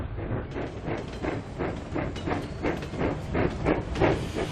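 Cartoon train engine racing along the track: a steady rhythmic chugging with clickety-clack and hissing steam, moderately loud and continuous with no talking.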